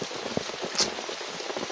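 Steady rain patters on surfaces at a campsite, a dense, even hiss with scattered close drops and a brief brighter splash, no voices present.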